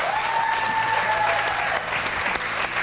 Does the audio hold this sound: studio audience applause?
yes